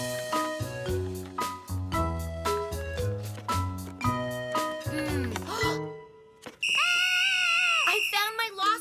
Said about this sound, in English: I found my lost whistle.